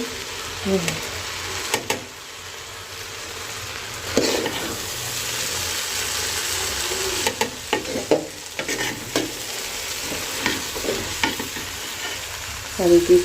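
Chicken khichuri stirred and fried in a pot, a continuous sizzle under repeated scraping spoon strokes at an uneven pace, close and clear, with brief talk now and then.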